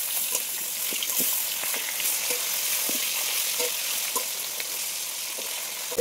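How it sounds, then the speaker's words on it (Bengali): Fish frying in oil in a karahi, rohu in a home kitchen, giving a steady close sizzle with scattered crackles and pops throughout, no voices. "এক এক করে মাছগুলো ভেজে নেব।"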